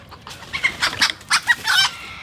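A native chicken clucks several times outdoors in short, separate bursts close by, ending in a longer drawn-out cackle.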